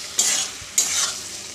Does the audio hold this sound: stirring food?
yes